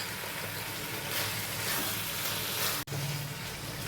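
Coriander powder, turmeric powder and sour yogurt sizzle steadily in a hot kadai for restaurant-style chicken, a loud continuous frying hiss with a brief sharp clack near the end.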